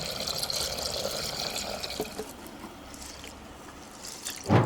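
Water poured over soaking chana dal and lentils for vegetable paruppu usili, a steady close splashing trickle that thins out, ending with a short clatter, no talking.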